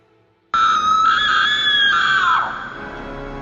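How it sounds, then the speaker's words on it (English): A loud, piercing scream erupts suddenly after a moment of silence, holds strong for about two seconds, then trails off into a fading wail. "I was awoken by this loud scream."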